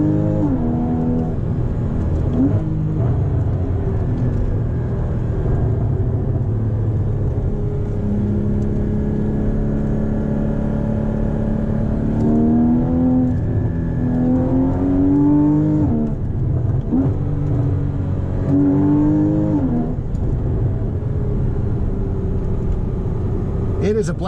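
A Porsche Boxster GTS with a naturally aspirated 3.4-liter flat-six, no turbos, pulls loud and close, its engine note rising and falling through several revving climbs and shifts as the car drives.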